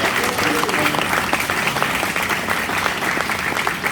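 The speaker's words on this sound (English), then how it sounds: "Our beloved brother, Dr. Sabi, give him a round of applause." An audience at a Q&A event following a movie premiere applauds, a loud, dense, sustained clapping that fills the room evenly, with a few voices mixed faintly into it.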